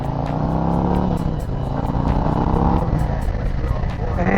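A new Harley-Davidson Road Glide motorcycle engine rumbles steadily while riding, with a deep continuous drone and rising and falling revs, as someone talks over it.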